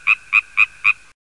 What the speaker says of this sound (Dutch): In de vijver zitten een heleboel kikkers.